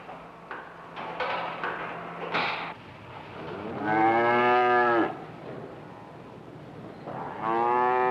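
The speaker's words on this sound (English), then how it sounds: "a herd of 86 cows" Dairy cows on a highly mechanized farm with a herd of 86 moo in several long, loud, harmonic calls, with quieter lowing and farmyard clatter between them and no talk.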